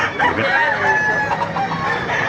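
Several roosters crow over one another in a noisy, close yard at a market in Baliuag, Philippines, with a steady din of overlapping calls and clucking.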